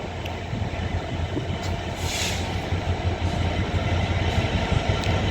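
Avanti West Coast unit 807 003 passing through Rugby, a steady loud rumble of wheels and traction noise holding throughout, with a brief brighter hiss in the middle.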